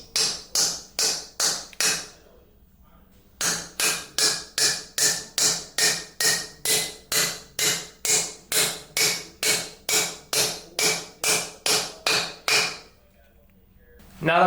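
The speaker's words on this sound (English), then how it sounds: "now we're going to hammer this on" Rapid, evenly spaced metal hammer blows driving a Gripedge socket extractor onto a rounded hex fastener, about two per second in long runs with a short pause between, loud and close, no talking.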